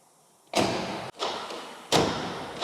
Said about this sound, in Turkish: bakın kapı falan nasıl zor açılıyor